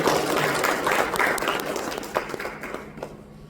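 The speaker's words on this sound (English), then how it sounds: "So this is a big applaud for you all." An award ceremony audience applauds with dense, steady clapping that stays loud at first, then thins and fades toward the end, no voices standing out.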